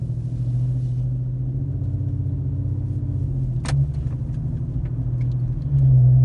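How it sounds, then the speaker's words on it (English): An Infiniti Q50 with a muffler-delete axle-back exhaust rumbles steadily at low pitch in drive, with a brief shift in tone partway through as the automatic transmission changes gear, then the drone resumes. "I'm just gonna do it in drive so you can kind of hear the automatic switches"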